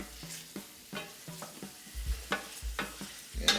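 Shrimp pasta being stirred in a frying pan, a soft sizzle under a series of uneven scraping and tossing strokes, close and without talk.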